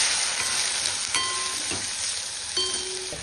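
Onion and tomato with turmeric and homemade red chili powder sauté in a pan with a steady, soft sizzle. A few faint metallic clinks from a spoon or spatula sound against the pan, and no voices are heard.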